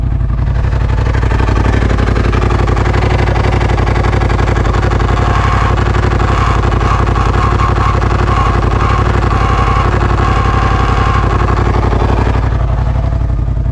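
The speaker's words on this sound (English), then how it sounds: "There's a little bit of a noise when it's just idling" A Polaris RZR Pro XP side-by-side idles steadily up close in wind, its engine drone carrying a faint rubbing clatter from a clutch plate scraping against its cover, with no talking.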